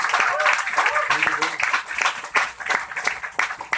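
Audience applause at a Hindi poetry gathering (kavi sammelan style talk), dense clapping filling the room for several seconds with a few voices faintly mixed in.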